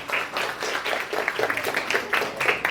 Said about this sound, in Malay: Tepukan kepada abang dan kakak kita